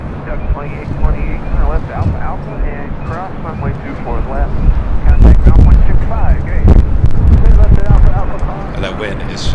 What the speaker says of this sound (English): That wind is just getting worse.